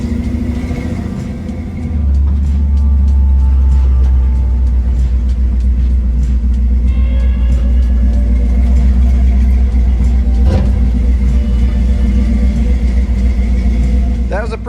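A 1956 Chevy car on a shakedown drive gives a steady, loud low engine rumble and road drone from inside the car that holds throughout, with a voice speaking over it.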